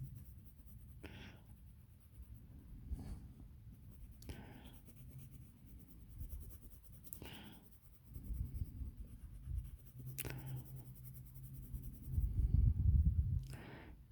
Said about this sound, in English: we'll using the same pencil, I won't put as much colouring on it